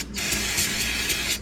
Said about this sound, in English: Just so happen to have parts cleaner in the area. Clean that off a little bit.